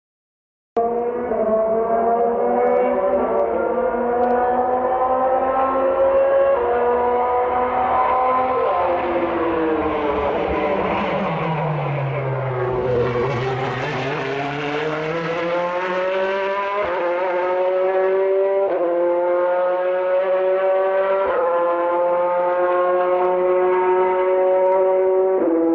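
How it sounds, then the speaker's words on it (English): A Corvette C8 Z06 race car's flat-plane crank V8 engine screams high-pitched continuously, its pitch climbing through gears, dipping as it slows, then rising again, loud and sustained. "Listen to the race car."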